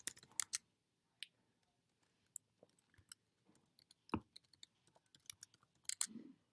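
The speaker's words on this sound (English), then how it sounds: "I would type in my information." Customer name and details typed into an online store order form on a computer keyboard, producing sparse, irregular clicks and taps at close range with short pauses between bursts, no talking.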